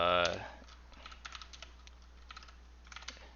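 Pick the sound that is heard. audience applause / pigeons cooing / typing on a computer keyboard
typing on a computer keyboard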